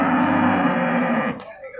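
A cow lowing at a cattle market, one long, loud, close moo that holds steady then cuts off, followed by faint background noise.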